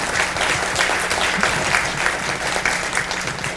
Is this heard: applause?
yes